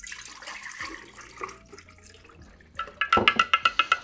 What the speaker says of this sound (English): Now I'm gonna pour it back in here.